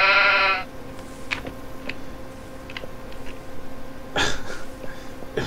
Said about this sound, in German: Immer diese Schafe